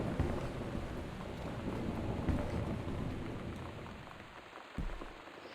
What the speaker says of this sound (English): Loud fucking thunder.